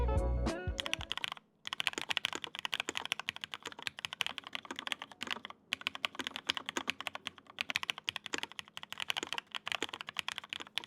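Rapid, steady typing on a mechanical keyboard, with clacky keystrokes in continuous bursts and a brief pause early on. No talking.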